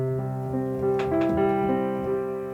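Piano playing an expressive chord-based phrase with flexible timing and swelling, fading dynamics, notes rolled and sustained into one another, close and alone, softer overall and tapering at the end.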